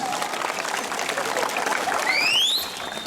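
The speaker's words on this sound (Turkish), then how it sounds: "Bir alkış yapıyoruz." Crowd of swimming students and their instructors applauds at a season-end gathering, producing a dense, continuous wash of clapping with a sharp rising whistle near the end.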